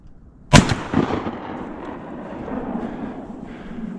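A single loud shotgun blast during deer season, fired at an 8-point buck, followed by a rolling outdoor echo that fades into quiet woods ambience.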